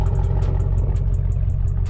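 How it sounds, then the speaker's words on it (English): A 2007 Chevrolet Avalanche Z71 with its muffler deleted and a Bully exhaust tip idles close by, a deep, steady rumble with a faint ticking pulse running through it. "This is pretty much what it sounds like at idle now."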